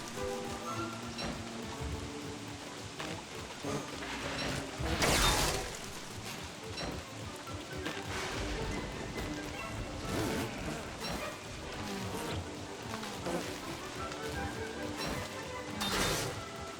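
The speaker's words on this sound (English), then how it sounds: "Is this another frog rain?" Frog rain pattering down in the survival game Don't Starve, heard as a steady dense rain wash with scattered soft thuds and a couple of louder crashing bursts, no talking over it.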